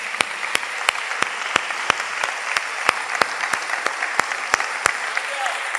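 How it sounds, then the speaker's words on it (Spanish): Sharp, separate handclaps ring out in a steady beat at a Spanish-language church service, loud and close, with a faint murmur beneath. "Dale un aplauso fuerte al Señor, aleluya."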